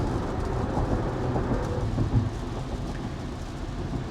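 Light to moderate rain hisses against a moving Tesla, blended with a low road rumble throughout, fairly soft and continuous.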